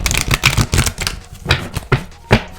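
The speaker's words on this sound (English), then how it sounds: "I'll go ahead and shuffle." Tarot cards being shuffled by hand during a reading, a short, close run of quick riffling flutters and slaps in rapid bursts, fairly loud and without speech.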